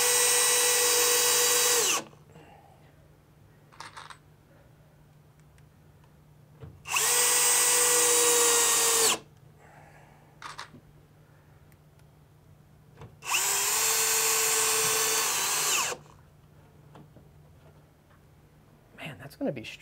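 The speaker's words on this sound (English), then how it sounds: "It's amazing what having a fresh battery does too in your drill. Actually, I think all of these are going into studs." Cordless drill driving screws into wall studs while mounting a 3D printed Multiboard, with three loud, sustained whirring bursts of about two seconds each, separated by quieter gaps with small handling knocks and a voice talking.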